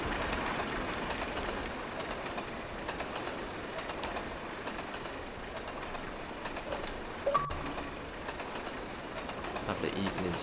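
Steam locomotive from the Trainz simulation game on Xbox Series X, a BR Evening Star hauling a train on the Scottish East Coast Main Line, gives a steady rolling rail rumble with faint clicks throughout, plus one brief louder knock.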